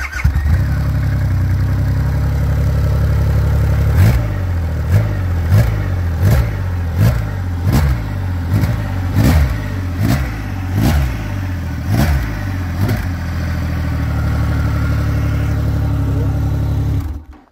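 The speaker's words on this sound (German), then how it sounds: "Kommt ein kurzer Auspufftest." A Triumph Rocket 3 R motorcycle idles loudly, then its exhaust barks through about a dozen sharp rhythmic throttle blips before settling back to a steady idle, close and without talk.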